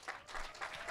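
Short burst of applause from a youth worship congregation welcoming a preacher, the clapping swelling in a few quick surges before the moment ends.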